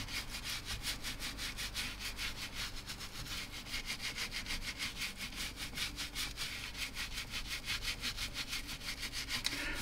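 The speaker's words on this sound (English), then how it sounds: "rubbing it in like that, and then he's going to take the towel and clean it up" Cleaner being rubbed into the Alcantara suede of a Corvette steering wheel, a steady rhythmic scrubbing and brushing texture that repeats in quick strokes throughout, close and fairly loud with no talking.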